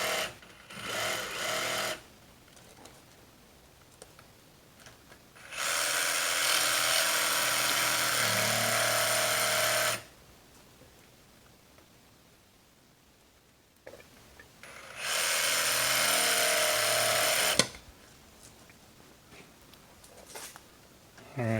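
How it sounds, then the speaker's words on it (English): A jigsaw saws through wooden deck stair stringers in two long, loud bursts of harsh buzzing, separated by quieter stretches and shorter idle runs of the blade. "Finishing off the stringers there, jigsaw."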